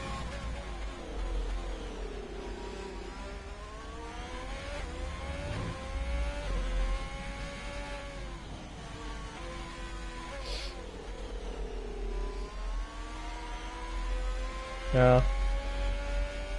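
On-board race car engine at Zandvoort in a PS4 racing game, revving up and down through gear changes in a steady rising and falling whine, with a sharp bump near the end, under a commentator's voice.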